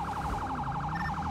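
Police car siren wailing steadily in a law-enforcement role-play video game, a fast, even warbling yelp heard close over continuous engine and road noise.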